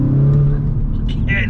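An Audi S3 8V pulls under throttle with a steady engine drone that rises slightly in pitch. The sound is short and close, from inside the car, with faint higher engine notes near the end.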